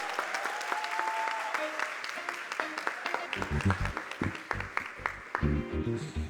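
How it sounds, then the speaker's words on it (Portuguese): Applause from a lecture audience, dense and steady clapping lasting several seconds, with some low thumping sounds mixed in toward the end. "Palmas."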